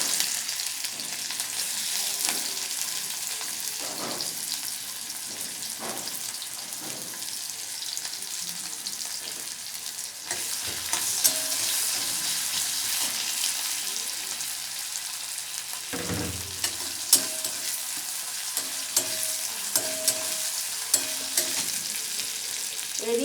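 Steady sizzling of onion, garlic and green chilli frying in a pan, with occasional stirring scrapes and small crackles over a long stretch, no talking.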